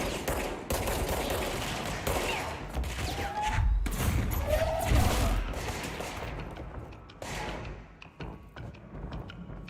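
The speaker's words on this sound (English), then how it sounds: "Still something shooting at me." Video game gunfire aimed at the player, dense overlapping bursts of shots and heavy thumps in a loud, chaotic barrage that thins toward the end.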